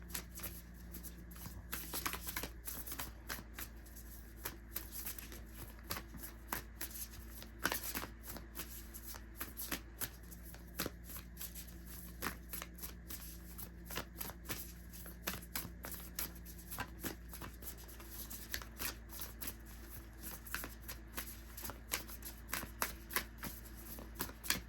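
A Moonology oracle card deck is shuffled repeatedly and close up, giving quiet, continuous riffling and flicking with sharper snaps throughout, no talking.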